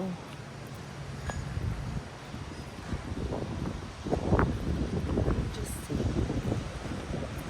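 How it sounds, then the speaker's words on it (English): Gusty wind buffets the microphone with low rumbling thumps and rushing noise, rising and falling in bursts throughout. "You may not hear me because it's very windy again."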